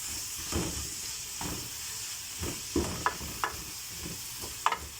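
Minced garlic, about three cloves, frying in a pan for a zucchini and minced meat tagine, with a soft steady sizzle under repeated scraping stirs of a utensil, close and fairly quiet.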